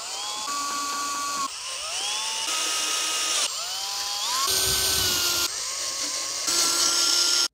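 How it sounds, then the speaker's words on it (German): A cordless screwdriver drives screws into a double-rod mesh fence, giving a run of short, close, loud motor whines that rise in pitch with each burst, with no talking. "dann am besten mal mit einem Akkuschrauber oder natürlich auch per Hand weiterschrauben"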